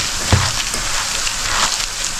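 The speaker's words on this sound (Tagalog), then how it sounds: "So, prito natin sa may olive oil." Fish balls frying in olive oil give a steady, close hiss of sizzling with a single sharper pop early on.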